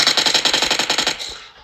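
Rapid automatic gunfire in a video game, a quick burst of about a dozen evenly spaced loud shots that ends in a short fading tail.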